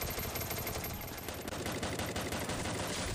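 Rapid automatic gunfire from the mobile battle-royale game Free Fire, a dense continuous burst of shots at close range, loud and steady with no talk.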